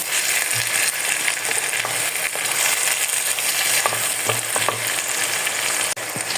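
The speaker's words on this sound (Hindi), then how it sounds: "अब मैं इसमें शामिल करूँगी 1 खाने का चम्मच चॉप किया हुआ अदरक। इसको भी हम प्याज के साथ फ्राई कर लेंगे।" Chopped ginger and onions fry in a pan for dhaba-style egg bhurji, a steady close sizzle with a few soft scraping stirs and light clicks throughout.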